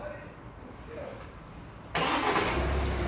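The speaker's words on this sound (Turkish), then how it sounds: "Çalıştırın aracı." A Kia Sportage engine starts after a quiet stretch: a sudden loud crank and catch near two seconds, then it settles into a steady close idle.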